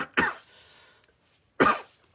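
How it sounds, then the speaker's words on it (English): Two harsh coughs from one person, close and loud, spaced about a second and a half apart with quiet between them. "Got my cough."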